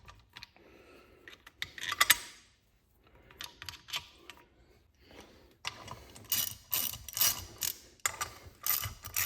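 Bolts being slid in and fastened onto the fuel rail atop the intake of a 1997 Kia Sportage, giving a series of close, sharp metallic clicks and ratcheting bursts separated by brief pauses.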